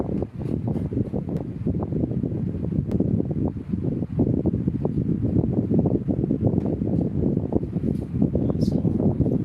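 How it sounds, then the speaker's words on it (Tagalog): Steady broadband whoosh of an electric fan blowing air in a classroom, continuous and fairly loud throughout with no talking. "let me turn off the electric fan dahil naririnig daw yung hangin"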